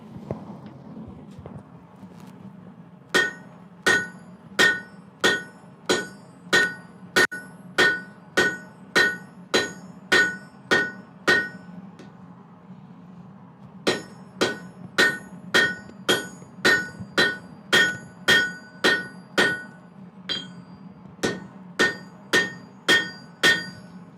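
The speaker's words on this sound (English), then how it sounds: "we'll just hammer on this." A hammer strikes metal again and again in a steady rhythm, each blow ringing brightly, with one brief pause partway through.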